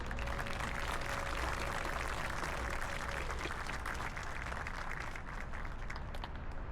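Members of the City Light Board of Directors receive applause at an outdoor park grant announcement, a sustained crowd clapping with a faint steady tone underneath, holding level throughout before tapering slightly at the end.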